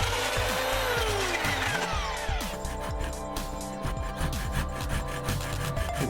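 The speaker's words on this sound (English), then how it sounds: "sanding high spots on the glass" Continuous abrasive scraping and rubbing of sanding high spots on a glass fibre guitar case, with steady back-and-forth strokes close by.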